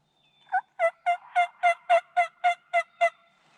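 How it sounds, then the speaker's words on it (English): Wild turkey toms gobble in a rapid rolling burst of about ten pulses. The sound carries from a hill at a moderate distance, clear against a quiet spring morning with no voices. "birds gobbling up on the hill"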